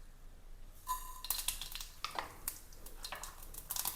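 Mustard seeds hit hot oil in a pan, then fenugreek follows, for a quiet, close sizzle with scattered sharp pops and a light clink of metal, with no talking.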